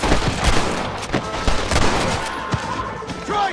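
Gunfire in a Red Dead Redemption shootout, a rapid stream of loud overlapping shots from several guns, close and continuous, with fainter cracks and ricochets mixed in.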